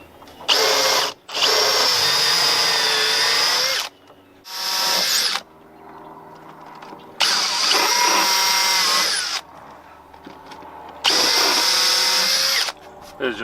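Power drill driving a countersink bit in a boat workshop, four loud whining bursts of a few seconds each separated by pauses, with brief voices and handling noises between runs.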